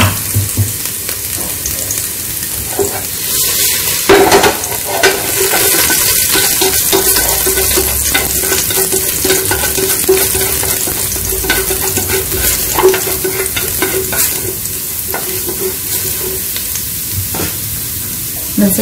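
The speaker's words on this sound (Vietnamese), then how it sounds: "Dầu nóng mình sẽ cho phần tỏi này và hành tỏi mình cho vào ha." Garlic and shallots frying in hot oil, a loud, continuous sizzle with stirring scrapes throughout, close up and steady for the whole stretch.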